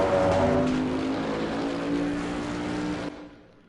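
A Bentley race car in Assetto Corsa Competizione accelerates hard out of a corner at Zolder on PS4, a loud, sustained engine roar that cuts off abruptly near the end.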